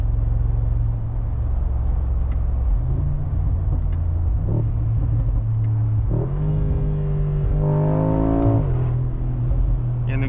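A 2025 facelift Mercedes-AMG G63 with its V8 engine accelerating, giving a loud, steady low rumble that climbs in pitch as the revs build through gear changes, with no talking over it.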